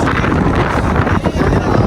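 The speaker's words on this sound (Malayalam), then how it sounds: "ഓ മഴ കേട്ടോ" Rain pours during a boat trip in Lakshadweep, a dense, steady hiss with wind-like rumble and boat noise around it, loud and close throughout, with a voice faintly mixed in.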